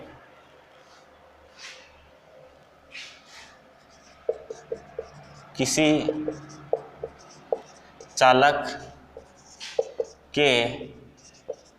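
Chalk or marker strokes on a classroom board as a teacher writes out a numerical physics question on Ohm's law, a series of short scraping bursts interleaved with the teacher's spoken explanation.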